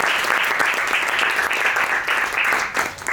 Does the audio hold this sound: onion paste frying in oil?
no